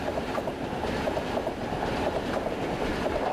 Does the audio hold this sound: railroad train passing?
yes